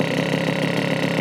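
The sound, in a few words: Puch Maxi S moped engine idling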